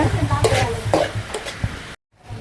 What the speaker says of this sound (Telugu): ఇప్పుడు పసుపు కూడా వేసుకొని కలుపుకుందాం